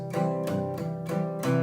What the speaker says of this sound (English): plays the bajo sesto, which sounds kind of like this